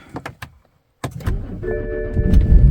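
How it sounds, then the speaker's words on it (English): A car with a weak battery is started using an ANCEL BS200 booster pack: a few sharp clicks and a pause, then the starter cranks and the engine catches, rising into a close, steady idle with a faint whine. "Now we're gonna start the car with the booster pack."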